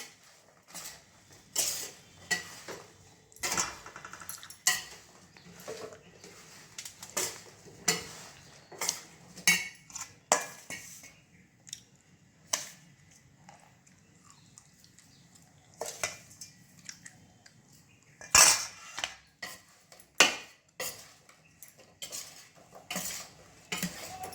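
A spoon scrapes and clinks against a bowl or pot while spice masala is mixed into raw mango pickle. The taps and scrapes are irregular, close and fairly soft, with no talk.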